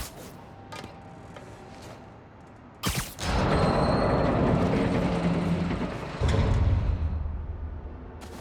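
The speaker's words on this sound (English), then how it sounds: "Spin the turntable, pull trains with webs." Train cars in Spider-Man: Miles Morales clank with a sharp metallic jolt, then rumble and grind along the track in a long, loud mechanical roll.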